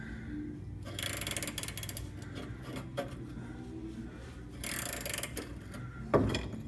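Ratchet wrench loosening a bolt on a 1994–2002 Dodge Ram during power steering gear box replacement, with bursts of rapid clicking at close range, pausing between strokes, and a sharper knock near the end.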